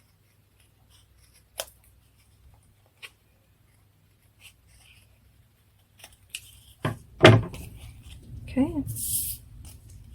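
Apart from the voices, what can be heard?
scissors snipping off a bit of a foil bird's tail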